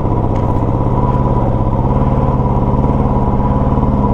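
Motorcycle engine riding off-road on a raw, rocky mountain track between Losar and Manali in Spiti, a steady loud near drone with a continuous low rumble throughout, no talk.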